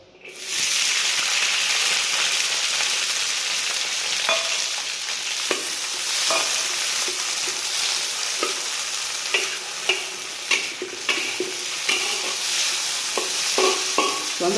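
Pickled sour long beans stir-frying in soybean oil in a hot wok, a loud steady sizzle from start to finish with scattered clacks of the spatula stirring, close and without speech.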